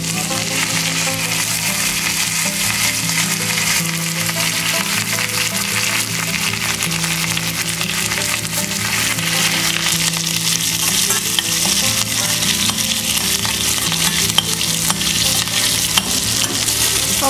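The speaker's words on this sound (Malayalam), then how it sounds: "ഇനി ഇതിലേക്ക് കറിവേപ്പില ഇട്ട് കൊടുക്കാം." Curry leaves and mustard seeds frying in hot coconut oil for a tempering for kappa biryani: a loud, continuous sizzle with crackling pops and occasional stirring, steady throughout without voices.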